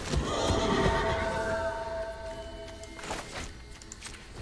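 A horse neighs in the Magic the Gathering Arena video game, a long drawn-out whinny with a few clip-clop hoof sounds after it, heard alone at moderate loudness.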